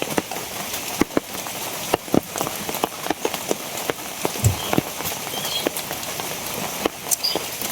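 Rain falls steadily on a rainy day in rural Bangladesh, a constant patter with sharp, close drips and taps striking surfaces at irregular intervals.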